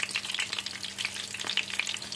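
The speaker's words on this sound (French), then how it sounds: "je vais faire coucher le tofu avec la face de farce en bas de l'huile. Feu moyenne" Shrimp-stuffed tofu, filling side down, fries in oil over medium heat, giving a steady dense sizzle with scattered pops and crackles throughout, close and moderately loud, with no talking.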